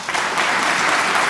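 Loud, dense audience applause at a Togolese spelling championship event, steady and sustained throughout the short stretch with no pauses.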